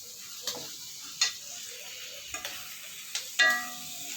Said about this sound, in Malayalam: നന്നായിട്ട് ഒന്ന് ഇളക്കി കൊടുക്കുക.